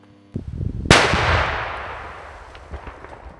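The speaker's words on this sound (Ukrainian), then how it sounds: "Тож його вирішили ліквідувати шляхом контрольованого підриву. Вибух." A single loud blast from a controlled detonation of explosive ordnance erupts after a brief thump, its booming roar rolling out and slowly fading away.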